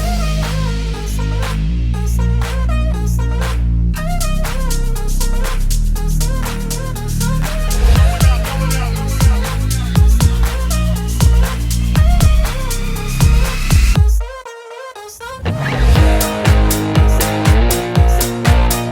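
Pop rock song demo played back loud, with driving drums, bass and layered synths, a brief dropout near the end before a bouncier, punchier section resumes.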